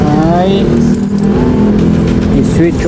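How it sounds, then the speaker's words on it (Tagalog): A vehicle engine is switched on and settles into a steady, loud idle hum, with keys jangling near the start and a person talking over it throughout. "i-switch on na natin yung makina"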